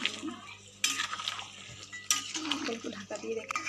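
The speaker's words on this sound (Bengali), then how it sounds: "এবার আমরা এটাকে একটুখানি নেড়ে নামিয়ে নেবো" Chicken curry is stirred in a metal pot, with a spoon scraping and clinking against the sides in quick bursts over a faint sizzle, close by and with no voices.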